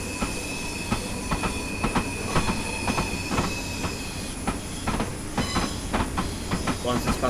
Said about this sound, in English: we are driving a 10-car train, if you didn't know, with the updated 444